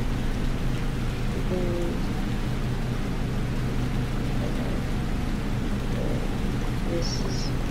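Steady rain with low thunder rumbling through the mix during a storm in the video game Stormworks, a continuous wash of noise with a few faint tonal chirps and no clear speech.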